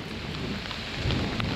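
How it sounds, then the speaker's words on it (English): Huge thunderstorm in Central Sulawesi's Bada Valley, Indonesia, a steady heavy roar of rain with low rumbling thunder throughout, loud and without speech. "Unfortunately, in front of me is a huge thunderstorm"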